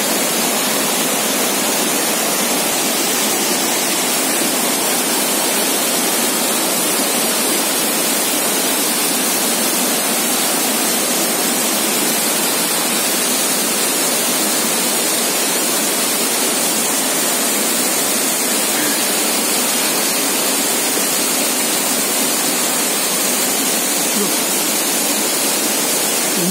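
A waterfall in a forest beside a Shiva temple roars as a loud, dense, unbroken rush of falling water, steady throughout with no other sounds standing out.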